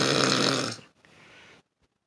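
People snore while sleeping: one loud, rough snore, then a softer, shorter breathy one, followed by near silence, close and in a quiet room.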